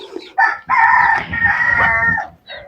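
A rooster crows loudly and close by in a long drawn-out call, with short clucks from chickens before and after it, on a backyard vegetable-garden plot.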